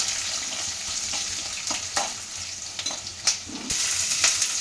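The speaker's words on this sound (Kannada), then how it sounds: "ಒಂದು 10 ರಿಂದ 12 ಬ್ಯಾಡಗೆ ಮೆಣಸಿಕಾಯಿ ಫ್ರೈ ಆಗಲಿ." Ten to twelve Byadgi red chillies frying with urad dal in a pan make a steady sizzle broken by several sharp stirring scrapes and clinks, growing louder near the end.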